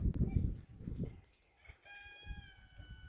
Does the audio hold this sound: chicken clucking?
yes